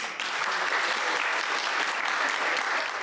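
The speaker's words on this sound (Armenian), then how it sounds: "ունենք քվորում, ծափահարենք։" An audience in a constitutional debate session claps together, a dense, even wash of applause holding steady for a few seconds with no voices over it.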